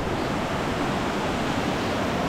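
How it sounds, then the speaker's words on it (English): A waterfall in the Monteverde cloud forest of Costa Rica, a steady, dense rushing roar of water that fills the whole moment without a break. "Another waterfall back there."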